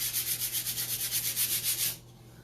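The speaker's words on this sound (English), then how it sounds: "I'm going to lightly sand over my chalk paste." Light sanding of chalk paste on a wooden high chair gives a quick, even back-and-forth rasp, about a dozen close strokes that stop abruptly after two seconds.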